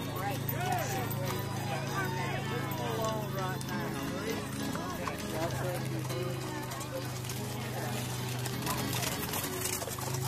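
Horses' hooves clip-clopping in a show ring at a fox trotter horse show, with a steady rhythmic beat of hoofs heard under ongoing talk and a continuous hum of background noise.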